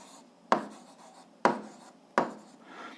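Pen strokes on paper during an 8th-grade algebra lesson on fractions: three distinct scratching marks, each trailing off, close and quiet, with no talk.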